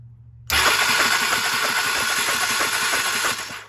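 A 1995 Honda Shadow VLX VT600CD motorcycle engine cranks loudly on the electric starter after a silent moment, a fast steady churning that runs for about three seconds without firing, then cuts off.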